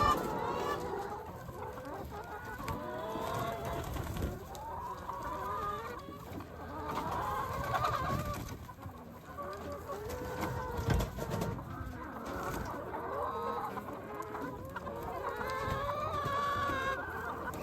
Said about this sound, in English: get the chickens out on pasture for the first time for the season